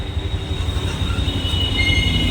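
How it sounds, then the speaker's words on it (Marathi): An overhead metro train rumbles past in a steady low roar, with a high whine from the wheels or motors above it. "मेट्रो बघा वरून चालली"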